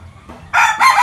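A conditioned gamecock raised for derby fighting crows loudly and close by in one short, bright burst. Faint rustling comes before it.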